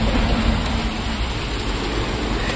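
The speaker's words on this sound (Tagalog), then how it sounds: "Yan, umulan ng yelo." Hail pelting down in a steady, dense hiss of ice pellets striking surfaces, constant and fairly loud throughout with no pauses and no voices.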